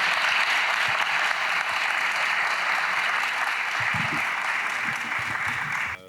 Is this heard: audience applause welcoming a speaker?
yes